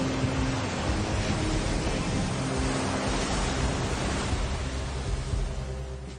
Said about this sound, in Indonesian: Hari itu ombak lumayan besar.